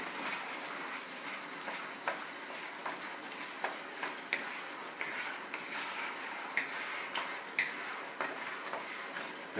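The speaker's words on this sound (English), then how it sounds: "And stir it up." Pansit with oysters being stirred in a pan, a steady sizzle with scattered light scraping and clinking from the utensil, close and continuous with no talking.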